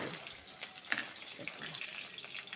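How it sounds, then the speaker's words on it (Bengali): Chopped onion frying in a pan of hot oil, with a steady close sizzle and a few light clinks and stirring sounds throughout. "ওটা ভালো করে ভেজে নেব"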